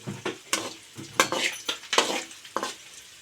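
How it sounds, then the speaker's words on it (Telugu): Garlic fries with pepper powder in a pan for garlic rice. A spatula scrapes in about six regular strokes over a light sizzle, close and with no talking. "తర్వాత ఈ వెల్లుల్లి వేగుతుంది కదా, వెల్లుల్లి వేగేటప్పుడు ఈ మిరియాల పొడిని ఇలా వేసుకుంటాం."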